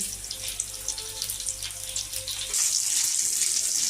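Skewers of chicken satay fry in hot oil with a continuous bright crackling sizzle that swells louder partway through, over a low steady hum.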